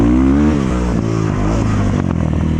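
A 2024 KOVI MAX 300 motorcycle revs hard in first gear as it lifts into a wheelie, a loud, close engine roar rising and wavering in pitch throughout.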